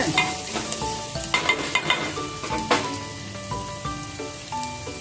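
A ladle stirs a thick gram flour mixture in a pan, giving repeated scraping, dabbing strokes over a close, steady sizzle, with bright metallic ticks from the ladle striking the pan.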